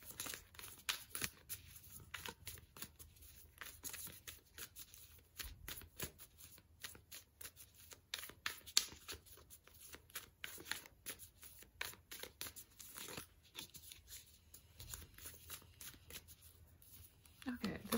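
Tarot cards are shuffled steadily for a reading, a close, continuous run of crisp riffling and soft papery slaps that stays fairly quiet throughout.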